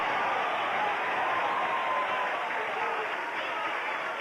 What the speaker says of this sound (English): They're fired up for this one in front of the big crowd.